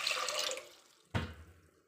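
Water is poured into a pressure cooker while making bisibelebath: a brief running splash at the start fades out, followed by a short hollow pour with a low resonant body that trails off.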